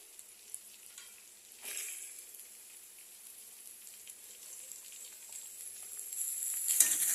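Cabbage frying in hot oil in a pan while being stirred: a steady, close sizzle that swells around a toss near the two-second mark and again toward the end.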